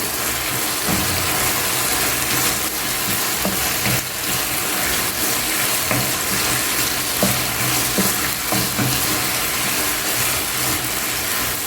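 Chicken Thai stir fry with dark soy sauce sizzles loudly in a hot pan, a steady crackling hiss with intermittent scraping knocks of stirring throughout.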